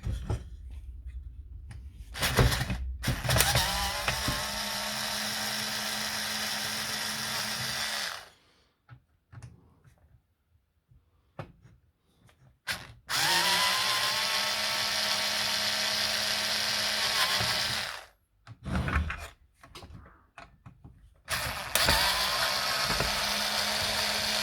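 A cordless driver backs screws out of a Dewalt, Makita or Milwaukee power tool casing, running in several long, close, buzzing bursts separated by quiet pauses and small handling clicks.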